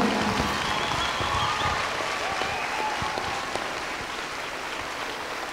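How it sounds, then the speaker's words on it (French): Audience applause at the opening ceremony of a roller and skateboard event, a steady, even wash of clapping from a crowd, moderately distant and continuous throughout. "je remercie bien sûr le public pour ses applaudissements"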